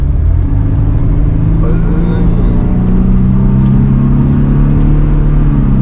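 A 1997 Mercedes-Benz W202 C200 engine runs close by with a steady, rising revving hum held throughout, under some nearby voices.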